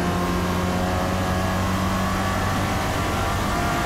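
Lotus Esprit engine on the Daytona circuit in the Forza Motorsport video game, a loud steady droning rev held at high pitch, close and continuous without a break.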